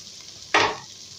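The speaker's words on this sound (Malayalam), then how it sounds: "ചേന മിക്സ് ചെയ്ത് കൊടുക്കാം." Fried elephant foot yam pieces are tipped into a hot pan, a single short burst of sizzling that quickly fades against a quiet background.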